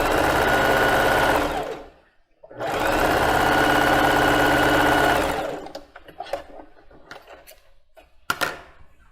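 A domestic sewing machine stitches a plus-size panty in two long, steady bursts, pausing briefly between them, then falls to scattered handling clicks and soft rustling near the end.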